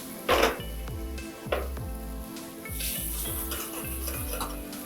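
Vegetable korma in Shahi white gravy is stirred in a hot pan, giving a steady sizzle, a couple of scraping clanks of a ladle against metal, and a low repeating hum beneath.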